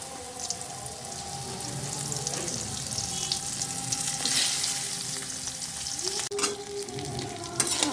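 Pointed gourd (potol) frying in oil in a pan with black cumin, a steady close sizzle with occasional scraping stirs and clinks.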